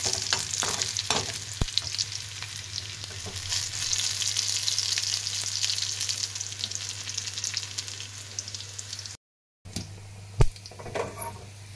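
Mustard seeds, dried red chillies and curry leaves crackle and sizzle loudly in hot oil for a bottle gourd dal tempering, with scattered popping clicks, a brief dropout, then sharper clinks near the end.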